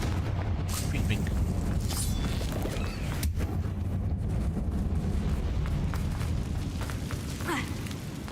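Fiery spell blasts from Confringo in Hogwarts Legacy, a steady low rumbling boom with faint crackles persisting throughout at moderate level, with a voice talking over it.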